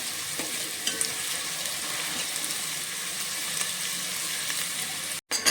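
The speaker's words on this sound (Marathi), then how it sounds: "कांदा आता पूर्ण चांगला आपण आता भाजून घेऊया" Chopped onions frying steadily in hot oil in a pan for a village-style mutton rassa, a dense continuous sizzle with faint stirring, close and even throughout, cutting off briefly near the end.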